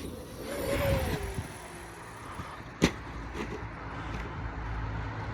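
Traxxas XRT RC truck speeding up on a long run, with a rising whine and rumble from its upgraded ESC and motor setup, a sharp knock near the middle, then steady driving noise.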